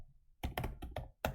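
Five or six quick, crisp keystrokes on a worn computer keyboard after a short quiet pause, close and clear with an uneven rhythm.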